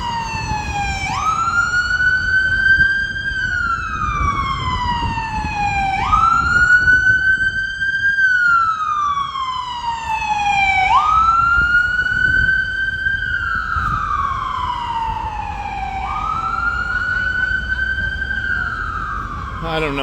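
A loud emergency vehicle siren in New York City traffic cycles through long rising and falling wails, nearby and dominant, with street rumble and a faint voice underneath.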